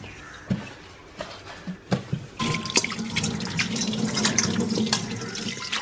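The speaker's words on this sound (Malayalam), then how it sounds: "ഞാൻ ഇനിയൊന്നും എന്റെ കൈയും സിങ്കും ഒക്കെ ഒന്ന് കഴുകിട്ട് വരാമേ." A kitchen sink tap running while hands are washed during cooking, with a few knocks and taps at first, then a steady close stream of water splashing into the basin with occasional clinks.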